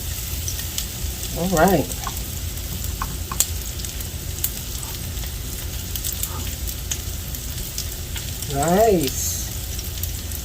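Vegan boudain balls fry in a pan with a steady close sizzle and crackle, soft scraping as they are turned, and someone talking briefly twice.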